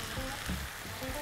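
Capsicum added to macaroni pasta frying in a pan makes a soft, even sizzle with a few faint stirring knocks, quiet and close with no voices.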